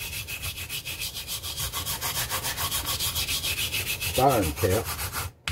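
A steel wire brush scrubs rust off an old brass piece with lettering, rubbing back and forth in steady, even strokes that keep a fast rasping rhythm, followed by a brief voice near the end.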